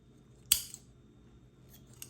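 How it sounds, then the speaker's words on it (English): Scissors cut string tying bundled herbs for drying, one crisp close snip followed by faint small clicks in a quiet room. "I'm going to go ahead and cut my string"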